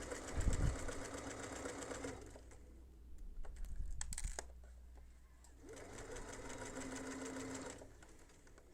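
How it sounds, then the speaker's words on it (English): Sewing machine stitching around the edge of fabric for a small bag, running in two steady bursts separated by a pause of quieter handling noises, close and fairly loud. "Never be afraid to stop the sewing machine and readjust your fabric."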